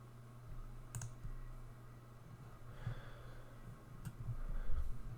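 Computer mouse clicks on a blue Bing chat box, a few sharp isolated clicks over a quiet room hum with faint breathing.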